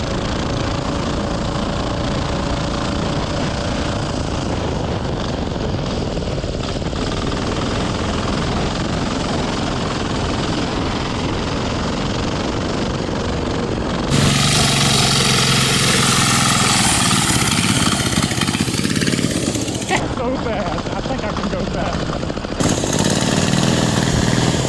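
Turbocharged 10HP diesel go-kart engine running at a steady loud drone, with harsher, louder stretches where the revs rise, heard alone with no talk.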